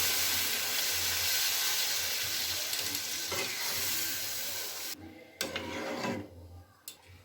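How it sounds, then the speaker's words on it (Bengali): Water is poured into sizzling spice paste in a pan for Bengali egg and potato curry. A loud steady frying hiss runs first, then the sizzle drops sharply, leaving softer bubbling with a few scrapes and clinks, close by. "এবার দিয়ে দেবো পরিমাণ মতো জল।"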